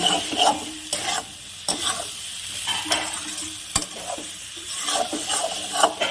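Small potatoes, fried earlier, being stirred into spices sizzling in a pan; a soft steady fry runs under repeated scraping strokes of a spoon against the pan, close by, with one sharp clack partway through.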